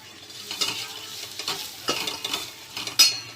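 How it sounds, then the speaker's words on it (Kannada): Crushed garlic and half an onion fry in a pan for crab rasam, giving a steady crackling sizzle. Scraping stirs and light clinks break through now and then, close up and with no talk. "and that half onion, and leave it to fry. Let it fry very nicely."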